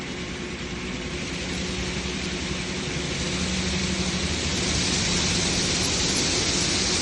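A Rhino XT debris-free sander's rotating brush spins at speed, producing a continuous dense whooshing roar that holds steady and builds slightly louder over the stretch, close and unbroken with no talking.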